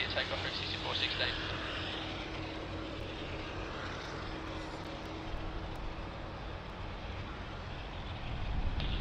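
A fixed-wing airliner takes off from runway 16 right at Sydney Airport, its broad engine roar holding steady and loud throughout, with a faint radio voice in the background.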